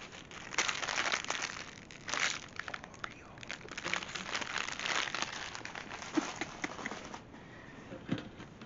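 A big plastic multipack of five noodle packs crinkles and crackles as it is handled, in a steady stream of close, rustling bursts with brief pauses between.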